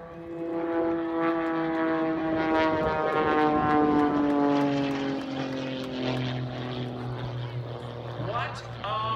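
A propeller race plane makes an inverted photo pass at the 2019 Grand Junction Airshow, its engine drone rising to a loud roar and then fading as it passes, with an announcer's voice heard over it.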